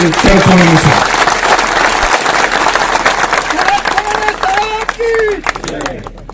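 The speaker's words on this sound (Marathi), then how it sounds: "जोरदार एकदा टाळ्या बाजू आपण" An outdoor crowd at a groundbreaking ceremony for a Shivaji Maharaj statue claps in loud, dense applause that fades toward the end, with voices mixed in.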